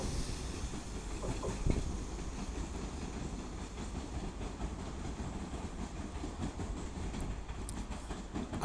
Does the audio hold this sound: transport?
yes